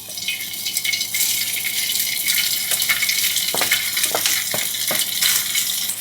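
Rice frying in hot oil in a pan, a loud steady sizzle with scattered clicks and scrapes of stirring running throughout, with no talking.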